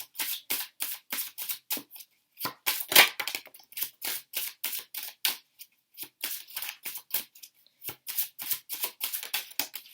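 A tarot deck is shuffled by hand in rapid, crisp riffles and slaps, close and loud, repeating in steady bursts with brief pauses between them.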